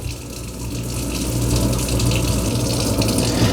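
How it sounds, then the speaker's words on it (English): A kitchen garbage disposal runs with a cleaning tablet dropped in, giving a steady, loud rushing and gushing wash of water and motor that builds slightly over a few seconds, with no voices. "turn the garbage disposal on"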